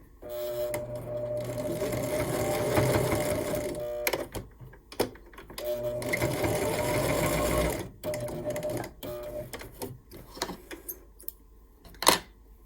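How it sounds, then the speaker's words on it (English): A sewing machine stitches a piece onto a micro mini Christmas tree quilt in two long steady whirring runs, broken by pauses filled with clicks, fabric handling and a sharp knock near the end. "Put it on at a 45-degree angle, and then sew it on."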